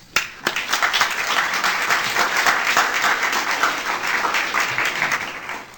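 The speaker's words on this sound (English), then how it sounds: "give a big round of applause for the person with the perfect voice that we all wish we had, Dennis Daly." Sustained audience applause fills the room for a speaker, dense clapping at steady loudness throughout with no talk over it.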